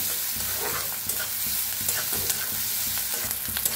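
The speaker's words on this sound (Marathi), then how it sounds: "बघा हलकासा कांदा भाजलेला आहे" Onion frying in a pan, a steady close sizzle with a spatula stirring and scraping at regular intervals throughout.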